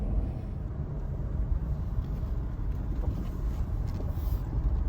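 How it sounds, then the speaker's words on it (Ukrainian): A tractor carrying a mounted Mosi sprayer drives across a farm, giving a steady low engine rumble that stays loud and continuous with no breaks. No one speaks. "Сергій Петрович ось вже два поля зробив, їде дозаправлятися нашим навісним оприскувачем Мосі"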